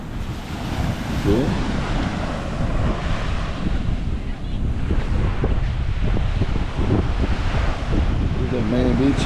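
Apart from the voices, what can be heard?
ocean waves on the beach in Tulum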